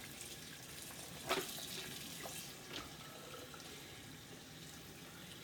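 Running tap water pours steadily while an object is washed beneath it, a continuous close splashing hiss with a couple of brief louder splashes and clunks partway through.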